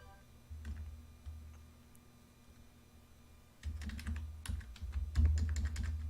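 Computer keyboard keys typed during spreadsheet work in Excel, a few isolated taps at first, then a denser burst of quick clicking in the second half, close and clear with no talk.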